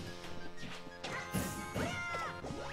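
Shield break hit in a Super Smash Bros. match played at a grand finals tournament: a loud sharp crash burst amid layered game effects and music, with other impact sounds around it.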